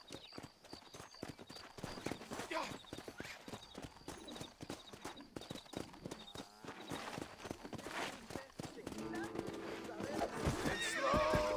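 In Red Dead Redemption, a horse neighs and whinnies while its hooves clip-clop steadily nearby, with voices talking over the sounds.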